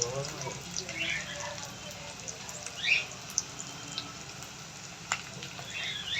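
Onions and other ingredients for manathakkali keerai soup sautéing in a pan, a soft sizzle with scattered pops and clinks beneath a voice speaking Tamil.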